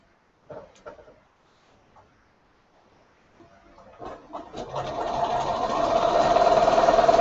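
A sewing machine stitches a paper-pieced quilt block, starting after a few scattered clicks and building into a steady, close, rapid mechanical whir that runs to the end.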